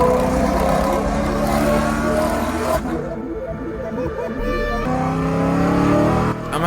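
Modified exhaust on a BMW M3 track car driven through city streets, loud close revving and engine roar that rises and falls, with a brief dip in the middle before pulling hard again.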